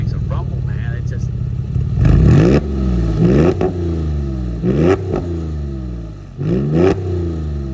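A 2004 Porsche 911 Carrera 4S with a sport exhaust revs repeatedly, each sharp climb in pitch dropping back into a deep, loud rumble, with four or five blips over a steady idle.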